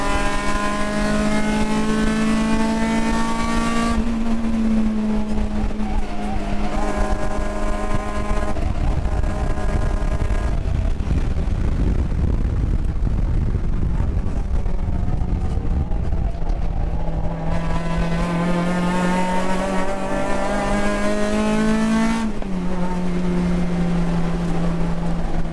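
A race car at a USTCC touring car race in Las Vegas roars continuously up close, its engine pitch climbing and dropping repeatedly through gear changes and braking along the track.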